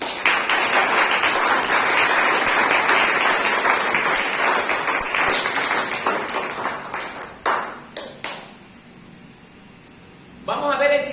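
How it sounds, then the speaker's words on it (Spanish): A church congregation claps in praise during a sermon, loud sustained applause that thins into scattered claps, then fades to near quiet before a voice picks up at the end. "Denle un aplauso al Señor."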